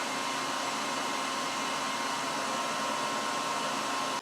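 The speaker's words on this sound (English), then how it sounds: "Okay, so I have my hooded dryer." A hooded hair dryer blows with a steady, loud broadband whoosh and a faint constant hum, running alone until it cuts off abruptly at the end.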